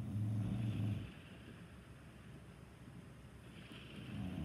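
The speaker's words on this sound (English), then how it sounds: "There was a storm and then storm hit the engine of the boat." A stormy sea crossing in the Roblox Adopt Me game brings steady wind and rushing water around a boat, with a louder low rumble at first that eases into a continuous blustery wash.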